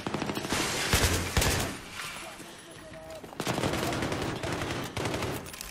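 Sustained machine-gun fire in the military shooter Battlefield 3, with long rapid bursts close and loud, broken by a brief pause and mixed with battlefield noise, and a voice speaking over part of it.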